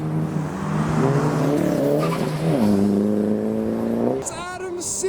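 A modified BMW E36 ute leaving a car show revs hard and squeals its tires, the engine note rising and wavering as it skids for several seconds, loud and close, with a sharp high screech toward the end.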